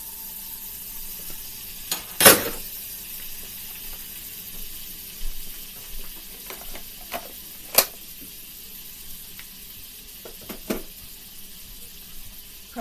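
Pats of butter melting in a pan give a low, steady sizzle, broken by a few sharp pops and spatters, close up with no speech.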